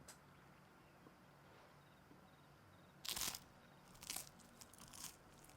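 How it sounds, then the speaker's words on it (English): Crunchy bread is bitten and eaten in a video game, a quiet scene broken by a loud crunch and then a short run of crackly crunches. "Oh, that bread sounds so good."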